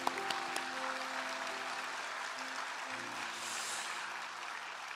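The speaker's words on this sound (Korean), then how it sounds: "우리 주은혜 팀, 우리 찬양 팀, 우리 한번 감사의 박수 올리겠습니다." A church congregation at a Sunday worship service applauds the worship team, a soft, sustained wash of clapping from a large room that stays even for several seconds.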